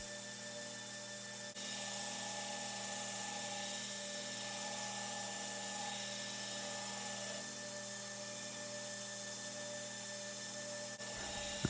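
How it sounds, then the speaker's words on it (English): Rough grinding of the bevels on a San Mai hunting knife makes a steady, loud, droning whine with a constant hum, running without pause for several seconds before cutting off abruptly. "as soon as I finish my rough grinding here"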